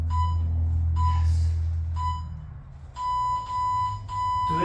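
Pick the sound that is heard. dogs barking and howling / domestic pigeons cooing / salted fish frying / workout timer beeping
workout timer beeping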